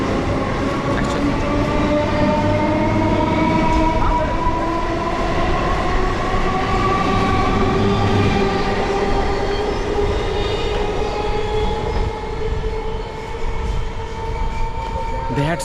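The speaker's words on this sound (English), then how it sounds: "let the train go away" A train rumbles past steadily with rising and falling wheel squeal and metallic hum, loud and continuous throughout.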